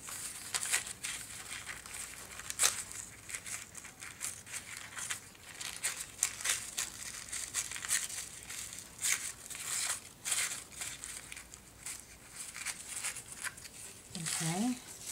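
Dried paper being torn away by hand at a desk while making mini envelopes and playing cards, a close run of crinkling, ripping crackles with a brief voice near the end.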